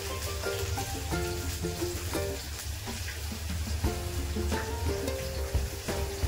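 Chopped onion drops into a little hot oil for kanda poha and fries with a steady, close sizzle that carries through the whole stretch.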